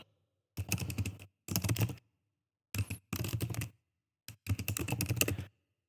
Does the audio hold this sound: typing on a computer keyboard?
yes